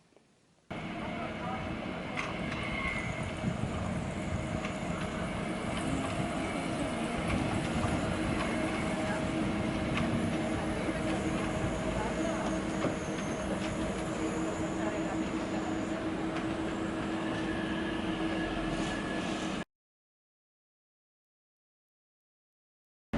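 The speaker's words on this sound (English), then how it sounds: "So we're starting here with the tram, which goes across the causeway" A Venice tram rumbles steadily along its rails across the causeway, a continuous close mechanical roar with faint clicks and squeal tones, ending abruptly in silence.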